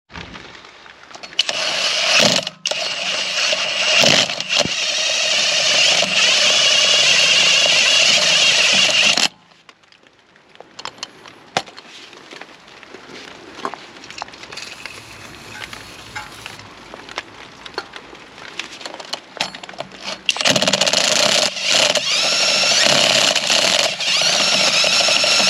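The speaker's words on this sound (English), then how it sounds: "going to give the faces a quick clean up with some brake cleaner and a little abrasive brush on the impact" An abrasive brush spun by an impact driver scours the faces of a Mini F56 rear wheel hub in loud, steady whirring bursts, with a quieter scratchy stretch between the two long runs.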